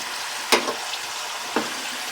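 Kettle-cooked potato chips fry in hot grease, giving a steady low sizzle broken by two sharper bursts as slices move or are lifted.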